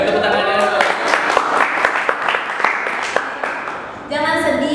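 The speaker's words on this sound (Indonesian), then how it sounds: "Boleh tepuk tangannya." A studio audience at a podcast event claps in a sustained burst of applause, which tapers off before a speaker's voice returns near the end.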